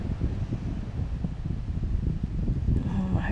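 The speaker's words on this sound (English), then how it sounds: "Hope the wind isn't too interrupting for you here." Outdoor wind during a yoga session: steady low rumble and buffeting gusts across the microphone, continuous and fairly loud, with a brighter rustle near the end.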